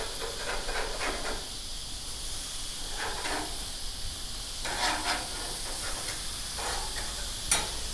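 Vegetables cooking on a lightly oiled grill give a steady close hiss and sizzle, with soft bursts of crackle swelling now and then and a brief sharp tick near the end.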